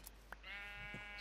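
A sheep in the video game Minecraft gives one faint, drawn-out bleat, with a couple of soft clicks just before it.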